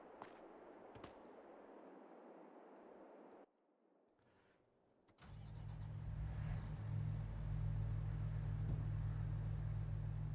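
A Fendt Ideal 10T combine harvester engine in Farming Simulator 22, starting after a brief near-silent gap and settling into a loud, steady low drone that holds to the end.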